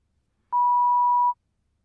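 A single steady electronic tone sounds for under a second, clean and even, against silence, like one burst of a telephone ringback on a call that goes unanswered.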